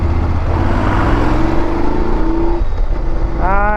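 A Triumph Street Twin motorcycle engine drones steadily while riding, loud and close, its pitch rising slightly before easing off under wind rush.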